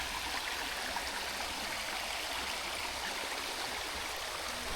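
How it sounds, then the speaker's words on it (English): A waterfall stream flows along a bushwalk trail near Florianópolis, a steady, even rush of water that holds unbroken from start to end with no voices. "So I think this is the waterfall."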